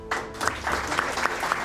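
Audience applause from a classroom gathering, steady close clapping that swells into a dense patter with a few louder claps rising through it, lasting briefly.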